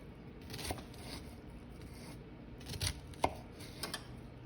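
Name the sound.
knife chopping an onion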